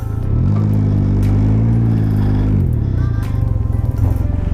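Can-Am Ryker three-wheel motorcycle engine idling close by, a steady low rumble that rises slightly and then settles as the bike pulls in and comes to rest at home, with light clatter toward the end.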